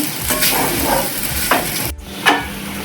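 Sabudana khichdi, a soft tapioca-pearl fasting dish, stirred in a pan with a steady background sizzle and several distinct scraping sweeps of the spoon, close and fairly loud, with no talking.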